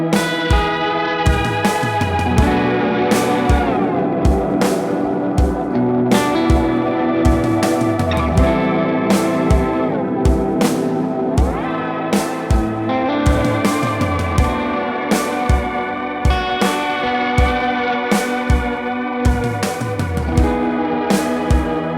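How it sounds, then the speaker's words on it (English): Guitar notes run through a Walrus Audio Slöer stereo ambient reverb pedal with a stretched delay time, giving lush, pitch-shifted reverb washes and sustained shimmering tails under repeated plucked chords, loud and continuous. "as you stretch it out, it affects the pitch of every single reverb sound and the length of"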